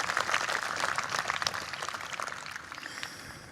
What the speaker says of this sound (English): Everybody give her a round of applause, y'all.